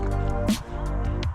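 A wooden club slaps the surface of a river once while fishing for pike, a short, close splash followed by a few faint drips.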